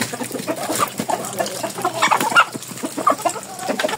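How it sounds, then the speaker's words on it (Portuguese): Chickens clucking busily while being fed corn on a farm, several birds making overlapping clucks and short squawks, close and lively, with no talking. "a colocar milho para as galinhas"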